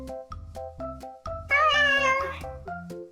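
A cat meows repeatedly in a chatty back-and-forth rhythm, close and clear, with one longer, louder drawn-out yowl in the middle.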